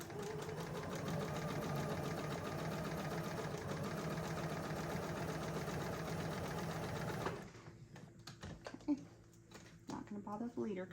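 A sewing machine stitches binding down onto a quilt in a fast, continuous mechanical whir, then stops abruptly, leaving quieter clicks and handling noises.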